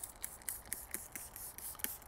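IPA prep solution misted onto a matte-painted car panel: a string of quick, faint spray bursts in an even rhythm, close by and with no talking.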